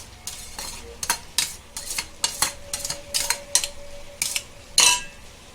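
Mutton mince tipped into a hot pan for Chinese biryani, giving a steady sizzle broken by repeated scraping and stirring clinks of a metal spoon against the pan, close and fairly quiet, with no talking.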